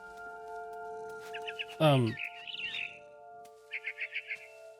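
Barn swallow chirping in the video game What Remains of Edith Finch: a short run of quick, bright chirps comes twice, separated by a sharp squawk, over a steady low tonal hum.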